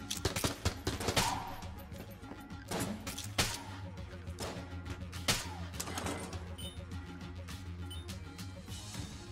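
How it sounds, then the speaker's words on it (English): Scrambler gun firing in the video game Enter the Gungeon, rapid bursts of sharp synthetic shots and impacts crackling continuously over a low background music bed. "The Scrambler might be the most OP gun ever."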